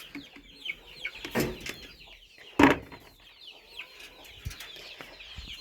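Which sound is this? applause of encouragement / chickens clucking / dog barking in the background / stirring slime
chickens clucking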